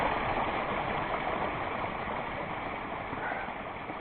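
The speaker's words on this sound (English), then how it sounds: "Nice little waterfall coming out of the mountains." Steady rushing water fills the scene, a small mountain waterfall splashing continuously and fairly close, with no voices.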